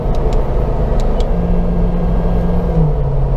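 An LT4 supercharged Jeep Wrangler Rubicon engine drones loud and close while cruising, its pitch holding steady then stepping down near the end as gears change, with a few faint clicks above the rumble.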